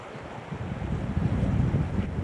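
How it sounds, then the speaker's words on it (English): Gusting wind outdoors in spring, a steady low roar on the microphone that swells and strengthens over a couple of seconds, with no voices. "Wind's picking up."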